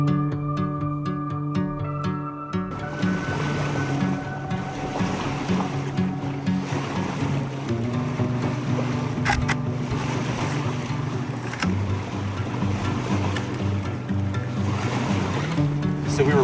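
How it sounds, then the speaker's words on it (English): A sailboat out in Boothbay Harbor, with continuous wash of waves and water against the hull mixed with steady wind buffeting, loud and unbroken throughout, along with a low engine-like drone. "we got the camera on the sailboat and we're out in the harbor"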